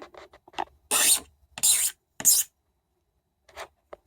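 Three loud, harsh scraping strokes of a broken drill bit grate across a hard surface, with a few smaller scratches before and one more after a pause.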